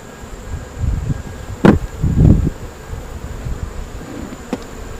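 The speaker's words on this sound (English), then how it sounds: "They have a decent amount of bees." A low, droning hum of honeybees buzzing at an open hive nearby, with a couple of brief louder swells as individual bees pass close.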